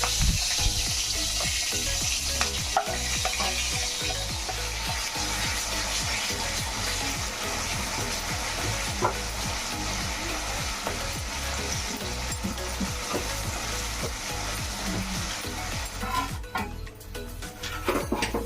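Steady sizzling and crackling of gongura leaves frying in hot tempering oil, with occasional stirring clinks, continuous throughout.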